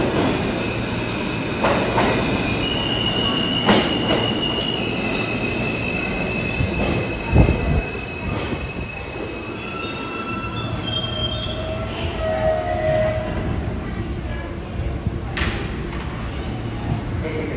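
An F train passes through the 42nd Street Port Authority subway station on the IND 8th Avenue line, wheels squealing and cars rumbling steadily throughout, with sharp metallic screeches and clanks, while a faint recorded announcement plays in the background.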